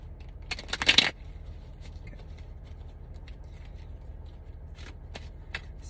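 Tarot cards shuffled in a brief, close burst of riffling and flicking near the start, then a quiet room with a few faint soft handling ticks.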